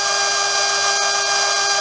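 A small hobby cheater motor spinning freely at around 24,000 RPM gives a loud, steady high-pitched whine with a constant tone and faint periodic ticks, close up and without talk.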